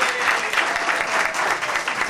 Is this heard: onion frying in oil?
no